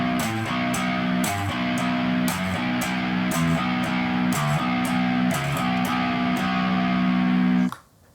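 Heavily distorted seven-string electric guitar chugs a minor-scale metal riff on its lowest string, with rhythmic palm-muted stabs and ringing notes played loud and close, cutting off abruptly at the end.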